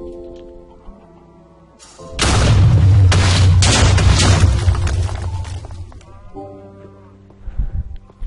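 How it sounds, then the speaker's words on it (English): A big explosion in a Minecraft-style video game bursts in loudly and rumbles on for several seconds with crackling debris before fading, with game sounds quieter before and after. "Pretty good explosion."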